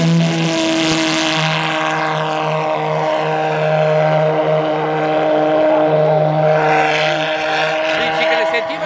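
A loud twin pulsejet engine on a model aircraft drones with a harsh, buzzing roar as it flies past at a model-aircraft show, rising and then dipping in pitch, with people talking nearby.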